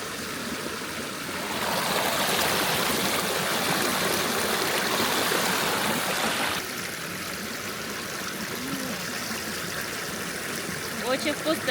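A mountain stream at a pass flows with a constant rushing, splashing sound while water is collected from it; the rush grows louder for several seconds in the middle, then settles back to a steady babble.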